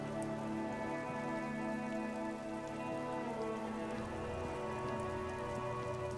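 Steady rain falls across a street and rooftop scene in the game Disco Elysium, a constant soft patter with a low ambient music drone beneath, no voices.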